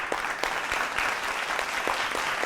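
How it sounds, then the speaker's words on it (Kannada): Sustained applause from a studio audience at a televised Kannada singing reality show, a dense, steady wash of many hands clapping, fairly close and loud, with no talk over it. "ಅದಕ್ಕೆ ನಾವು ಒಂದು ಜೋರು ಚಪ್ಪಾಳೆ ಕೊಡೋಣ."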